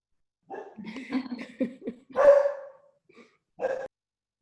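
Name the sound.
dog barking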